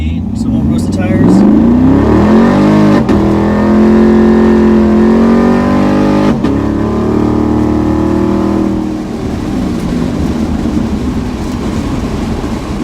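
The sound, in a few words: car with swapped Gen V L83 V8 engine accelerating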